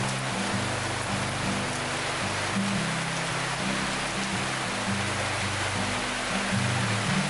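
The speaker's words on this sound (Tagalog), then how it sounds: "Pag lumakas pa to, maliligo ako ng ulan." Steady, dense rain of the first downpour of 2020 falls all around an outdoor spot, a constant close hiss with a low droning hum underneath and no voices.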